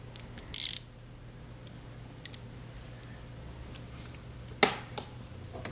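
A small screw on a Wurlitzer 206a electric piano is turned down with a screwdriver, giving a few short, close mechanical clicks and scrapes scattered through a quiet room.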